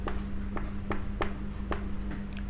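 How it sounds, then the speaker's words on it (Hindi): Writing on a board during a chemistry lecture on alkenes and carboxylic acids, with repeated short scratchy strokes in a steady rhythm over a constant low electrical hum, close and clear. "जैसे देखो मैं यहां एल्कीन लिख रहा हूं"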